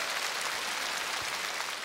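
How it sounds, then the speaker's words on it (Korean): A studio audience at an outdoor KBS singing contest show in Seo-gu, Daejeon applauds a guest, a thick, continuous wash of many hands clapping at a steady level throughout. "박수 주시기 바랍니다"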